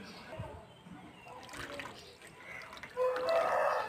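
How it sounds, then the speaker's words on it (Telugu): Water poured into a cooking pot of rice for egg biryani, two glasses' worth, making a steady splashing pour that swells louder near the end, with faint kitchen noise beneath. "2 గ్లాసెస్ ఆఫ్ వాటర్ యాడ్ చేశాను."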